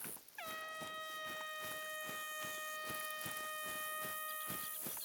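An air horn in the hunting game TheHunter: Call of the Wild blares as one long sustained multi-tone blast lasting several seconds, loud and steady over a faint buzzing background.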